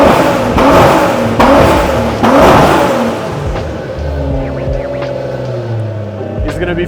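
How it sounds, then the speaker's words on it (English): A car fitted with a VR38 engine, shown at a Japanese resto-mod shop, revs hard in a few loud rising bursts, then settles into a lower idle-like rumble with some background noise. "it doesn't sound like a V10 because it isn't a V10. It's actually a VR38."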